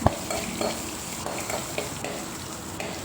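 Sliced large onion sautés in a pan for bitter gourd curry, a soft steady sizzle broken by a few light stirring scrapes and taps from a spoon, close by and unaccompanied by speech.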